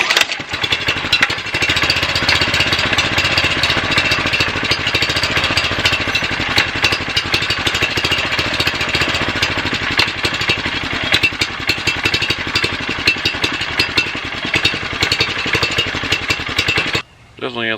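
A go-kart engine cranks and runs steadily for most of the clip, a loud, rough small-engine drone that cuts out briefly near the end before catching again.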